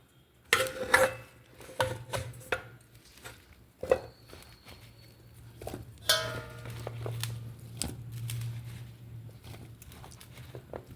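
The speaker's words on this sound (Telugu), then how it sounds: "ఈ బౌల్తో మనం ఇప్పుడు మామిడికాయ ముక్కలు కొలుసుకోవాలి." Mango pieces for Andhra avakaya pickle being scooped and measured with a bowl, giving clinking and knocking of the bowl and pieces, scattered taps and scraping, some sharp ringing hits and a low steady hum behind.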